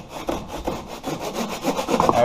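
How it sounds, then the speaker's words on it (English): A bendy handsaw undercuts wooden door frame casing during a flooring install. Quick, rhythmic rasping strokes come up close and loud, with no talking. "it's a little slower going with the handsaw, but gets the job done just the same."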